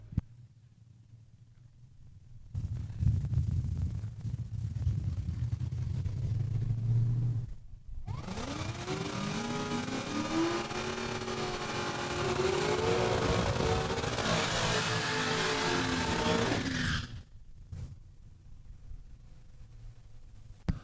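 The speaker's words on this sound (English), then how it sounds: "Dale Hoyer out of Regina, 68 Chevelle. Going down the track" A 1968 Chevelle drag racing down a quarter-mile strip at Saskatchewan International Raceway: a deep idle rumble, a brief lull, then a loud, sustained full-throttle roar with rising gear pulls for about ten seconds before cutting off.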